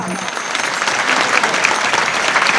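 Devotees clapping together at a Marathi Ram Navami kirtan, a loud, close, sustained round of clapping with dense overlapping claps and no speech.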